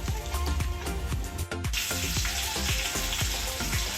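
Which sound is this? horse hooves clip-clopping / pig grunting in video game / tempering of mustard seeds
tempering of mustard seeds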